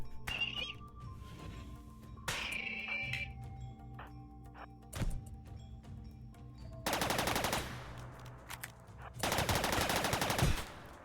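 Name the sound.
gunfire in RimWorld video game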